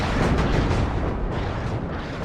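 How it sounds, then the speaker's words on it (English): In the video game WARNO, an artillery barrage makes a continuous roar of heavy, rumbling explosions that overlap into one loud, booming wall of sound for the whole stretch. "Look at the intensity of that artillery barrage."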